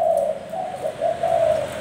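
Thai dove cooing steadily, a series of soft, rounded low coos repeating in a gentle rhythm, close and fairly loud with a quiet background and no talk.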